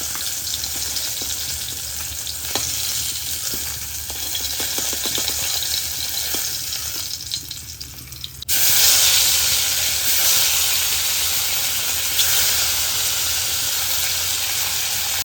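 Fish fries in oil on a stove, giving a steady loud sizzle and hiss that thickens after a brief dip partway through, with no talking.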